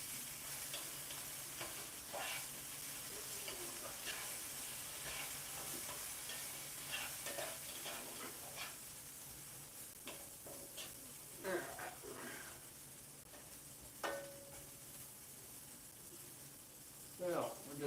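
Seasoned, oiled potatoes sizzle and fry on an electric skillet in a hotel room, with a steady hiss and intermittent scraping stir strokes; the sound is close and fairly quiet.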